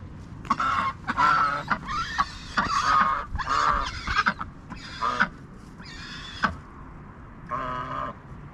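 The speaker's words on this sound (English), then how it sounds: "We've got the happy ducks quacking up a storm." A group of ducks in a rural northeastern Chinese village quacks loudly and repeatedly nearby, overlapping harsh honking calls in irregular bursts with short pauses between.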